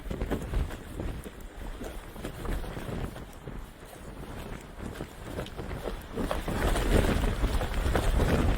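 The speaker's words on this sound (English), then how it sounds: "Wind is literally pushing us over." Strong wind buffets the microphone on an Irish coast, a rough, gusting roar that rises and falls and grows louder toward the end, with no talk.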